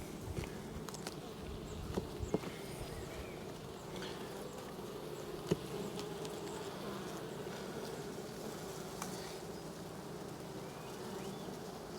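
Bees and bumblebees working around a beehive in May, a steady low droning buzz that holds throughout, close and fairly quiet, with a few faint clicks and taps and no talking.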